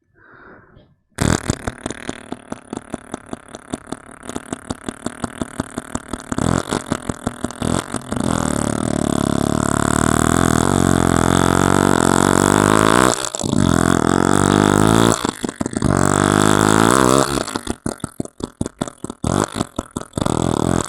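A voice imitates a CDI H100 motorcycle engine at close range, with sputtering starts, a loud buzzing idle, revs rising and falling, and brief pauses before it drops off at the end.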